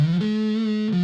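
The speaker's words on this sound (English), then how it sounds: "Sounds more like a fuzz to me than a distortion." A brief fuzzy, saturated electric guitar note through a Danelectro French Toast pedal rings out with a slight pitch bend, gritty and sustained, heard alone without speech.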